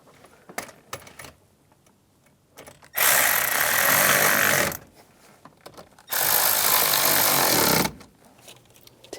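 A power tool drives bolts while fitting an ignition switch on a 2005-2007 Ford Five Hundred: two loud, steady whirring bursts of about two seconds each, set among light clicks and handling noises.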